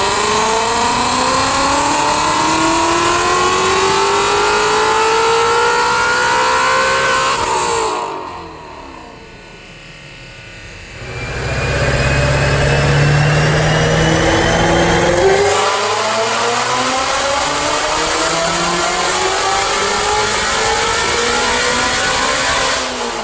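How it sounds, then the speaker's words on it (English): A 2018 Ford GT350 with a Whipple supercharger and Kooks headers revs hard during a dyno pull, climbing loud and close through rising sweeps, dropping to a brief lull, then roaring back up through more pulls. "So we're gonna watch the dyno pull and I'll show you the engine."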